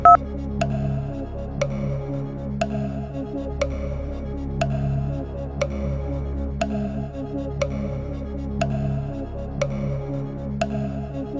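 Phone-a-friend telephone dialing in the Who Wants To Be A Millionaire pub quiz video game, a steady series of about a dozen evenly spaced clicking dial pulses over a constant low musical hum, moderately loud and with no talking.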